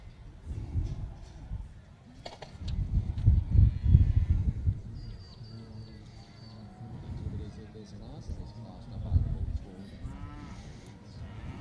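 A young Shorthorn heifer lows at a cattle show ring, low mooing swells rising and falling a couple of times beneath an announcer's ongoing commentary.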